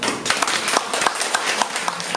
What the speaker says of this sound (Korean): 특히 우리 임재근 작가님께 한번 감사와 격려의 박수 한번